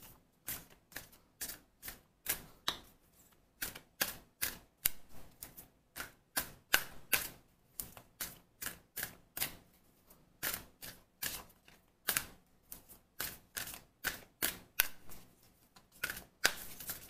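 Tarot advice cards being shuffled in a steady run of crisp, close riffling snaps and flicks, repeated in quick irregular bursts with no talking.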